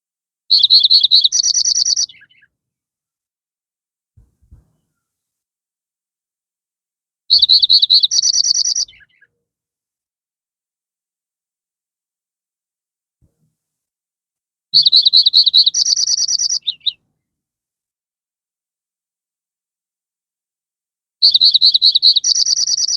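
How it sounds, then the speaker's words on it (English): A Lincoln's sparrow's bright, bubbly song repeats four times, each phrase about two seconds long, separated by long silent gaps, clear and close. "here, for example, is a song of a Lincoln sparrow"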